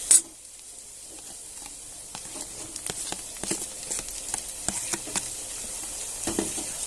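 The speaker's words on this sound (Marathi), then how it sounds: "आता आपण त्याच्यात टमॅटो घालून घेऊया" Tomatoes sauté in a pan with onion fried until red and ginger-garlic paste, giving a soft, steady sizzle with a sharp hiss as they hit the oil, then quiet crackles and light stirring ticks.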